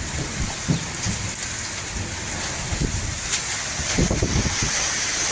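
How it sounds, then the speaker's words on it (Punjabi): Heavy rain pours steadily with strong wind in a village in Gurdaspur, Punjab, a dense hiss with occasional louder spatters and low rumbles, close and continuous without talk. "ਦੇਖੋ ਕਿੰਨੀ ਫਾਸਟ ਫਾਸਟ ਮੀਂਹ ਆ ਬਹੁਤ ਤੇਜ਼ ਮੀਂਹ"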